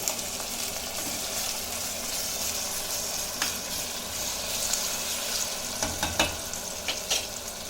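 Chicken fry with kasuri methi stirred in a pan: a constant close sizzle with intermittent scraping and clinking strokes of the spoon.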